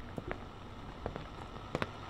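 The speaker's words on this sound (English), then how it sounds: "I think that might just be rain" Rain falling in a horror video game: a faint, steady patter with a few sharper drops standing out now and then.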